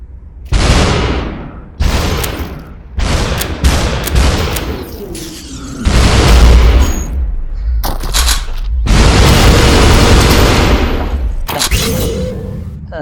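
Gunfire in the VR shooter SuperHot VR: a run of loud, close gunshot bursts and booming thuds in irregular clusters, some sustained like a volley, with a brief voice between shots.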